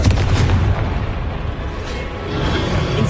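A Confringo spell explosion in Hogwarts Legacy: a loud, deep, rumbling blast that keeps booming and roaring for several seconds, close and heavy, with no talking.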